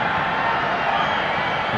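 A dense football crowd of more than 12,600 at Dashrath Stadium in Nepal during Nepal vs Myanmar roars steadily, a loud continuous wash of voices with faint cheering throughout.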